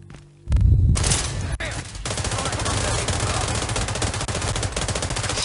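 Sustained rapid automatic gunfire in the video game The Division 2, loud and continuous after a brief quiet start, with a player's voice partly audible beneath the shooting.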